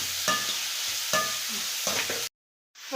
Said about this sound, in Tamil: இப்போ வந்து பச்சை மிளகாயும் சேர்த்துக்கலாம். இது நல்லா வேகட்டுங்க